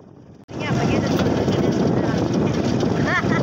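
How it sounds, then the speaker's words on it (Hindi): A motorcycle on a village road roars into life after a quiet moment, then runs with a loud, steady engine drone and buffeting wind noise, close to the microphone. "तो चलते हैं मोटरसाइकिल स्टार्ट करने हैं"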